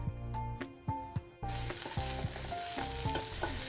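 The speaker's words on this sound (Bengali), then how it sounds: "পেঁয়াজগুলো একটু লাল লাল ভাজা হয়ে এলে এর মধ্যে দিয়ে দিলাম আদা রসুনের পেস্টটি" Onions browned with green chillies sizzle in hot oil as ginger-garlic paste goes in, with a few spatula knocks first, then a louder, steady frying hiss with scraping stirs.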